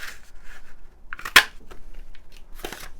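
Scissors snip through paper up close, giving a few quiet cuts and one sharper, louder snip in a short burst of crafting work at a table.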